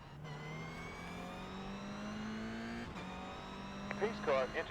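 Race cars accelerate together at a green-flag restart in a racing video game, their engine whine rising steadily with a brief gear-change dip. A voice comes in near the end.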